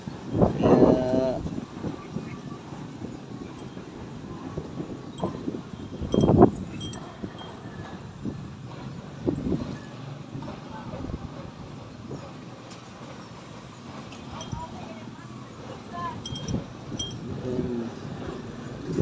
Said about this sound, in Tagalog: Mahangin masyado rito, mahangin mga guys.